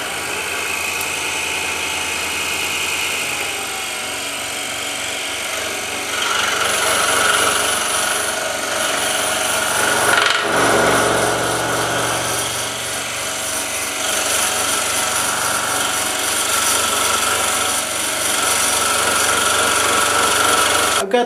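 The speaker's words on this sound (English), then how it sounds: "let's go ahead and insert this blade through our entry hole and cut out, I believe this is the interior walls of the box" A scroll saw cutting the interior walls of a wooden gift box whirs steadily and close for about twenty seconds, its rapid blade chatter rising and easing in intensity as the cut progresses, with no talking.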